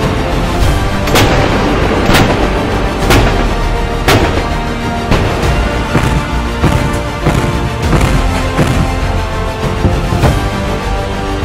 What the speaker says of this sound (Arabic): ونفذت الوحدات البحرية ضربات مركزة من خلال تنفيذ رمايات مدفعية سطحي بالذخيرة الحية وبمختلف الأعيرات على الأهداف السطحية المعادية